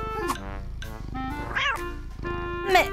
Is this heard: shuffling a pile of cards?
no